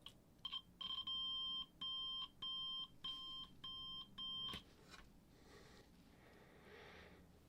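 Repeated electronic beeps from a multimeter continuity tester checking new battery terminals in a Sanyo MGP9 Walkman cassette player: about six steady, evenly spaced tones, close and clear, followed by quiet handling.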